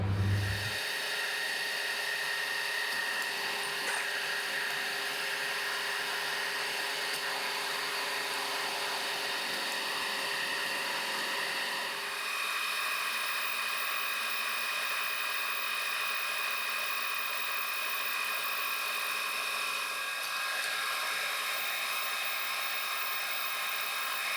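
A 5mm two-flute end mill cutting a slot in a homemade marking gauge gives a steady, continuous high-pitched machining whine that runs the whole time at an even level, with no talking.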